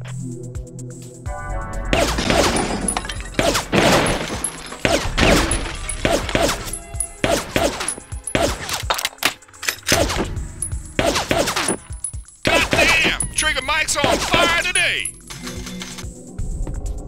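Rapid bursts of gunfire from the Bad Boys 2: Miami Takedown video game, loud and continuous with choppy repeated shots and clattering impacts, mixed with voices talking over the action.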